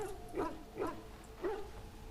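A few short dog yips or soft barks in the video game Dragon Age: Origins, three spaced bursts over a low hum, fairly faint and with no talking.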